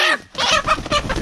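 A chicken held upside down squawks and clucks in agitated bursts, close and fairly loud, on a farm.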